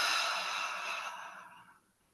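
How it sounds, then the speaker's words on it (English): A big, deep breathy exhale during a breathing exercise trails off gradually over about two seconds, close and airy, like a long sigh, with no speech. "And then a big, juicy exhale."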